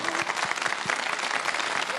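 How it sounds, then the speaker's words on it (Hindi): A studio audience on a live Ramadan TV show applauds a child guest, brisk continuous clapping with a voice speaking over it. "भाई बहुत सारी तालियां बजाएं"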